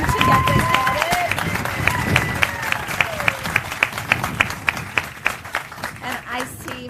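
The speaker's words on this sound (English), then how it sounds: "we should give a round of applause for the workers who run the RO plant" Audience applause at a water treatment plant building dedication in Lake Worth Beach, honoring the workers who run the RO plant: a steady patter of claps with sharper individual claps standing out, under a speaking voice and other sounds.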